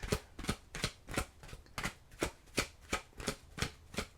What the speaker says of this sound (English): let me get your last tarot cards here